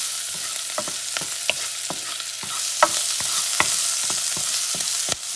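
Garlic frying with sofrito in a hot pan: a constant soft sizzle broken by a dozen or so sharp clicks and scrapes of a utensil stirring, with no talking.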